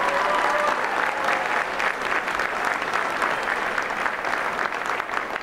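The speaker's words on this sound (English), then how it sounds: "Please join me in a big round of applause and thanking Dave Reichert" Dense, steady applause fills an election-night watch party, a large crowd clapping continuously at an even level for several seconds with a faint voice briefly audible early on.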